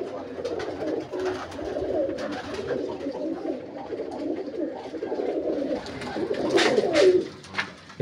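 Pigeons coo on a rooftop loft in Mandi Bahauddin, their soft rolling calls overlapping near and continuously, with a few louder, sharper notes and flutters toward the end.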